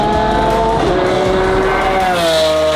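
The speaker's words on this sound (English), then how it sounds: "we're gonna do a flyby with this." A Lamborghini Murcielago on new streets in Mexico makes a loud, close flyby, its engine roaring and rising and falling in pitch as it passes, with no talking over it.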